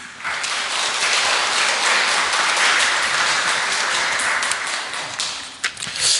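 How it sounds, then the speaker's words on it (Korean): A church congregation claps loudly and continuously for the choir, a thick wash of applause that thins out and fades toward the end. "우리 성가대를 위해서 큰 박수 드리죠"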